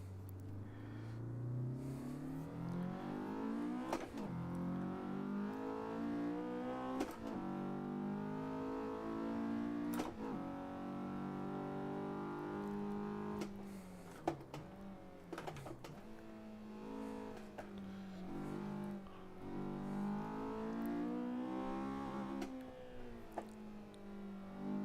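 A Honda S2000 from JS Racing driven on the Gunsai Touge mountain road in the racing game Assetto Corsa, its engine revving up and down repeatedly with rising and falling pitch, punctuated by sharp clicks of shifting.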